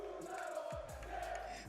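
French fans roar at a Fortnite championship event, a dense, continuous crowd cheer heard from a distance, steady and fairly faint.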